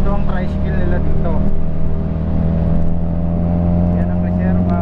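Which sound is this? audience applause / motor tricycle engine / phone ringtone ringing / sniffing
motor tricycle engine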